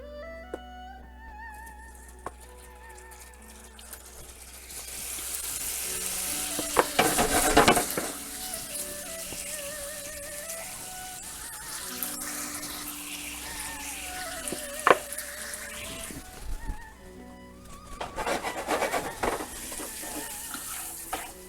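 Shrimp are stirred in a pan with honey over medium-low heat to candy them. A soft sizzle runs under repeated scraping and stirring strokes, with background music throughout.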